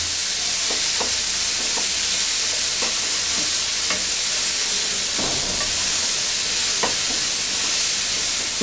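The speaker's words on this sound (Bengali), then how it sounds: "লবণ দিয়ে এটাকে আমি এখন ভাজবো" Ridge gourd with salt frying in a pan, a steady close sizzle and hiss with scattered stirring scrapes and clicks throughout, no voices.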